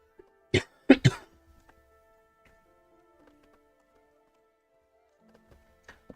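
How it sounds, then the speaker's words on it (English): Someone who choked on a drink coughs three times in quick, loud succession near the start, then quiet follows with faint background noise and a small throat sound near the end. "I did that thing where my drink went down the wrong hole and now I'm coughing all over the place"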